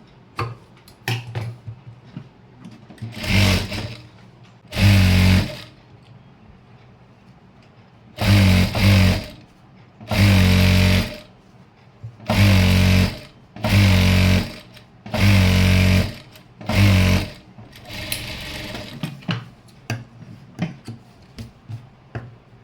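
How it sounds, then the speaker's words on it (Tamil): A sewing machine stitches chudithar pant bottoms in repeated short bursts of a few seconds each, separated by quiet pauses, with the motor loud and close. "இப்போது ரெண்டு பாட்டமும் தைச்சிட்டேன்"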